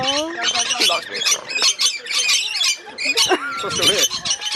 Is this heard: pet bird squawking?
yes